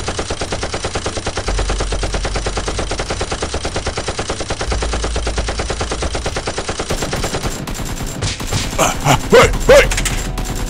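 Nerf guns firing during a Nerf gun fight, a rapid steady stream of mechanical clattering shots, close and loud, giving way to scattered pops and rustling near the end.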